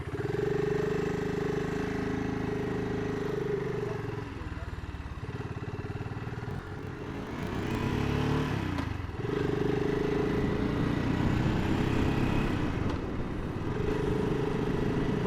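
A BSA Goldstar motorcycle rides away, its engine a steady, loud rumble that shifts in pitch as it changes gear, with wind buffeting throughout.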